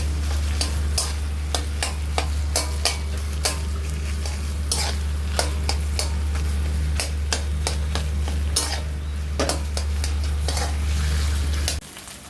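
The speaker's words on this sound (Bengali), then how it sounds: "এতে আমি মাছের মাথা আর ভাজা তেলটাও দিয়ে দেবো এর সাথে এটা দিয়েও একটু ভালো করে নেড়ে নেবো" A spatula scrapes and taps steadily against a frying pan while taro greens are stirred with a fried hilsa fish head and its frying oil. A low, constant hum of the stove runs underneath, with a gentle sizzle and no talking.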